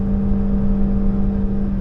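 Toyota Yaris Hatchback 2023 small engine held at full throttle near 5,500 rpm, a loud, steady, strained drone with a constant high whine and cabin rumble.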